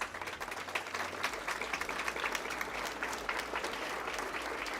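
Audience at a school annual day function breaks into sustained, dense applause for a standing ovation, steady clapping filling the hall for several seconds with no voices over it.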